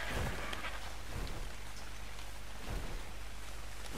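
Steady, dense rainfall pours down in the ARK: Survival Evolved game world, a constant wash of falling drops heard alone without pauses.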